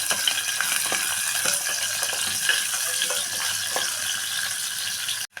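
Onion frying in a pan with cinnamon sticks and cloves sizzles loudly and steadily, with occasional stirring clicks, heard close and without talk.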